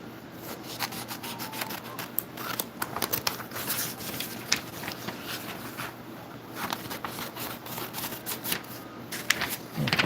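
Cardboard being cut out by hand for a retro arcade-style Coke machine, a steady run of close scratchy scraping and rubbing with frequent small clicks and crackles, continuous throughout.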